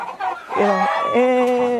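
Chickens clucking and squawking loudly up close, a series of harmonic, drawn-out calls with a brief choppy start, no talking.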